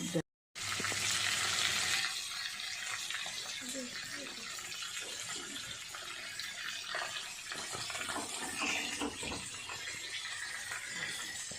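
Fish frying in hot oil gives a steady, dense crackling sizzle that carries on throughout, with short louder spits here and there and some nearby voices and kitchen clatter underneath.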